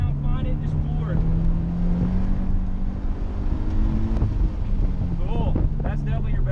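A car accelerating hard at an autocross event, its engine droning loud and steady with a rising pitch, heard close from inside the cabin under wind buffeting while a passenger talks.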